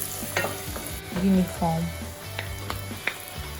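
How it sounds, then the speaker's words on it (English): Chili powder being stirred into jollof rice in a hot oiled pan, a soft scraping and sizzling texture with brief utensil knocks, heard under a person talking. "stirring everything to make sure everything is evenly"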